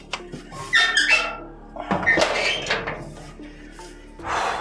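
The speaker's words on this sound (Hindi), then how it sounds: "अब ये दरवाज़ा लॉक कर दीजिए।" A door is locked nearby, with a few short squeaks and metallic clunks spread over several seconds against a quiet room.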